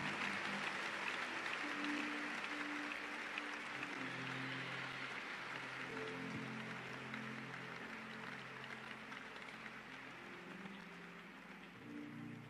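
Sustained applause from a congregation at a church service, a dense even wash of clapping lasting throughout, heard from a distance with faint voices and a low tone underneath.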